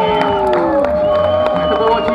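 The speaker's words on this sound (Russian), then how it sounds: "давайте подарим свои аплодисменты командам Distortion и" Crowd at a street dance battle final cheers and whoops for the competing dance teams, a steady roar of voices with scattered claps throughout.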